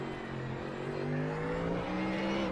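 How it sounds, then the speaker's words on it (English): A Ford Mustang GT3 race car thunders with its loud exhaust during a GT3 Open race, a steady, heavy engine roar with rising harmonic tones, continuous and close throughout with no talk. "What's that Mustang always with the raw power, loud exhaust?"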